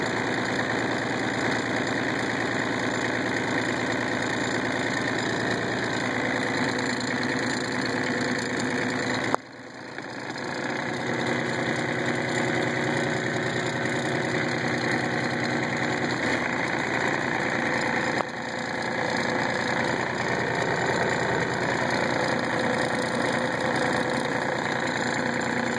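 Kubota tractor diesel engine with a block heater idling after a cold start, a steady close rumbling drone that holds for the whole stretch, with two brief dips in level and no talk.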